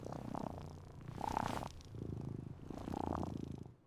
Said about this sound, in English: C is for cat, purring soft and sweet.